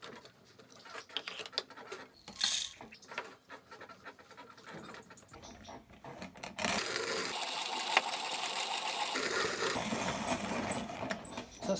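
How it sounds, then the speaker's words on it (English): Hand-cranked 1930s coffee grinder with burrs set just touching, crushing 7 grams of coffee beans in a gritty, crackling rasp that grows denser and steadier over the last half, heard up close without talk. "So that's about 18 turns of the handle there, making it a pretty fast grinder."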